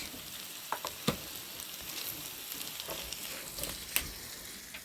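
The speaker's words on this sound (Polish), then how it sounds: "Wrzucam paprykę pokrojoną w kosteczkę. I też będziemy podsmażać." Diced bell pepper sizzling in a pan with already-fried onion, a steady, close crackle of frying with a few louder pops and stirring knocks, no voices.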